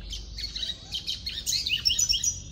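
A capuchin seedeater, or papa-capim, sings a rapid series of bright, high chirps and trills, clear and fairly close with no talk over it.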